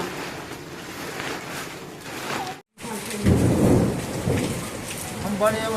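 Heavy unseasonal summer rain pours down at night with thunder. A dense, loud roar of rain briefly cuts out, then returns with a deep rumbling swell of thunder.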